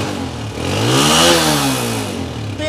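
A Honda 125 motorcycle engine is revved once close by, pitch climbing to a peak and falling back to a steady single-cylinder idle over a few seconds.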